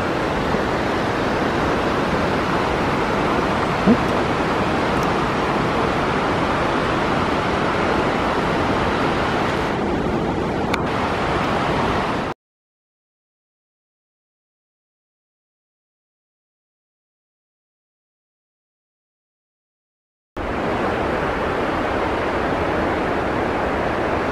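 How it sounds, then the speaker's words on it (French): Steady, broad rushing of a waterfall below the Ailefroide glacier in Pelvoux, French Alps, constant in loudness, broken by a stretch of total silence midway before the roar returns. "Voilà, toujours la cascade qu'on entend."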